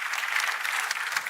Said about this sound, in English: Can we have a round of applause for Michael Novogratz?